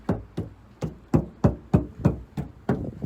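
Knocking on the door panel of a flood-damaged Hyundai Palisade, whose panels sound shallow and hollow: nine evenly spaced, close, dull knocks over about three seconds, with no other sound.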